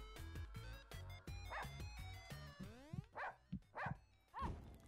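A dog in a Russian subway barks several times in sharp, separate bursts toward the end, near and loud, over a steady harmonic hum and earlier rhythmic clatter.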